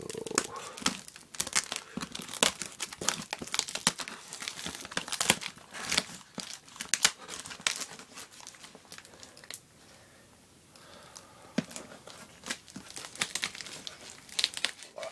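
Packing tape is pulled and torn off a big cardboard box folded over to fit, heard up close as dense crackling rips and crinkles in repeated bursts, with a short quieter pause partway through.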